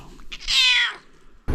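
A house cat gives a single clear, fairly close meow with a rising then falling tone, followed by a brief rustle at the end.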